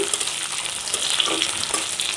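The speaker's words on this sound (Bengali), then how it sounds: "এই শুটকিটা আমি এবার ভেজে নিব তেলের মধ্যে" Chepa dried fish (shutki) frying in hot oil in a pan for a taro curry: a steady, close hiss and crackle of sizzling with small spatters, heard alone without voices.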